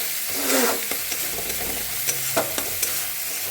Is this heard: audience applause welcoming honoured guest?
no